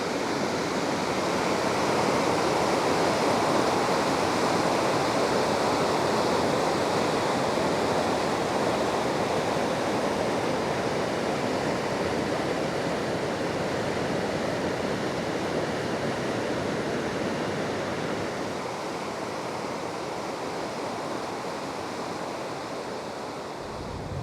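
Loud, steady rushing water of the Merced River in Yosemite National Park after a flood roars without pause, a dense, unbroken wash of sound that fades only slightly toward the end.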